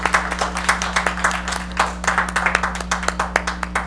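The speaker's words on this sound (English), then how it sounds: "Let's give a round of applause for her" Audience at a local tonight-show event claps for a guest, a dense burst of hand claps from a modest crowd, close and lively, rising and falling in quick uneven rhythm over a low steady hum.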